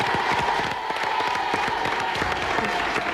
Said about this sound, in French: Bon, en tout cas on vous applaudit, hein,